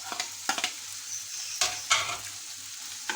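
Garlic-ginger paste with chopped carrots and capsicum roasting in a pan, a soft continuous sizzle broken by several sharp scraping stirs at uneven intervals, close up with no talking.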